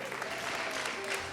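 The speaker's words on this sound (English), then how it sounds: "Let's give a round of applause for Tyson Aiken." Audience applause for a person being introduced at a Mr BG 2018 event, steady dense clapping throughout a short stretch, fairly loud with a faint hint of voices.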